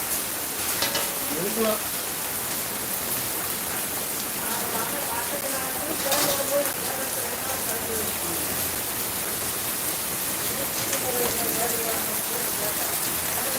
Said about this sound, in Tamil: திடீர்னு இப்போ மழை பெய்யுது